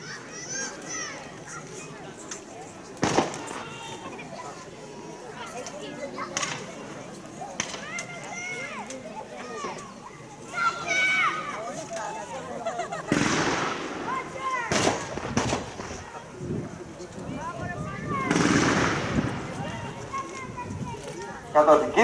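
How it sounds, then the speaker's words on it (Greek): A booby-trap blast and gunfire ring out during a Greek National Guard battalion exercise near Florina and Amyntaio, with sharp loud cracks and bangs scattered over an outdoor scene while someone narrates throughout. "η ομάδα θα πέσει πάνω στις παγιδεύσεις, όπως είδατε αυτή την έκρηξη"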